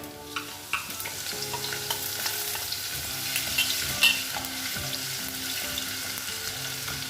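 Chopped garlic and ginger frying for fish molee produce an even, moderate sizzle with light stirring knocks, accompanied by soft background music throughout.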